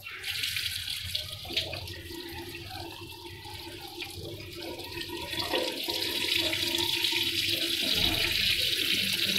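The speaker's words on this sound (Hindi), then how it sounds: "इसमें से देखिए पानी टपक रहा है, गिर रहा है कंटिन्यूस।" Water leaks continuously from a mouth-operated bibcock tap, a steady close splashing stream with a constant hiss and no talking.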